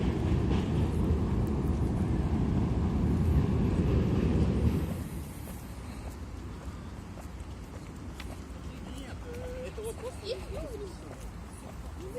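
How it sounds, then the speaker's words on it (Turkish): A train rumbles past loudly for several seconds beside Floridsdorf lake in Vienna, then fades abruptly, leaving quieter outdoor ambience and a distant voice. "Gördüğünüz gibi su taraftan tren geçiyor."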